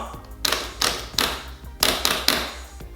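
Sanwa buttons on a Razer Panthera arcade stick, struck in about six distinct, close, slightly thuddy clicks spaced at an uneven rhythm.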